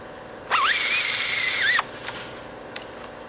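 A power tool whines loudly for just over a second while loosening and removing a bolt on a Mk6 VW Golf GTI serpentine belt tensioner, its pitch rising and then dropping, followed by a couple of faint clicks.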